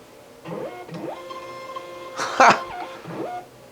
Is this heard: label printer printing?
yes